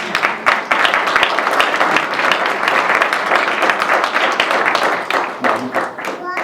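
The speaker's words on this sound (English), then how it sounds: "I think we should give him a round of applause." An audience at the 2022 Windsor Bridge Builder Awards gives a round of applause, brisk close clapping that stays loud for about six seconds with a few voices mixed in.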